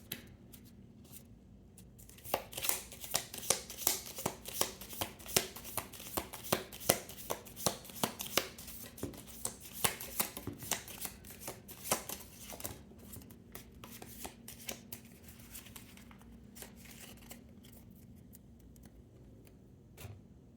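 Tarot cards are shuffled by hand in a long run of quick, dense riffling clicks, close up, quieter at the start and end.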